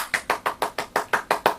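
Eight sharp hand claps in a steady, quick rhythm in a radio studio, close and crisp with no talking.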